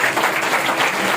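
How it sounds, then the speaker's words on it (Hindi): A church congregation at a Sunday service claps loudly together, producing a steady, dense wash of applause that fills the whole moment without pause. "ताली बजाएंगे जोर से।"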